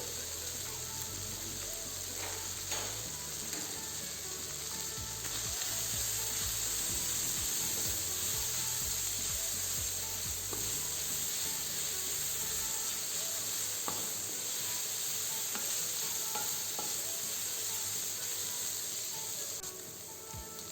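Fine-chopped garlic and ginger sizzling in a pan for Singapore-style curry noodles: a constant, even hiss with a few faint clicks and a steady low hum beneath, quiet and unbroken throughout.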